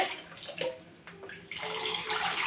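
Black rice being washed by hand in water, with soft splashing, swishing and trickling in uneven bursts, close and fairly quiet.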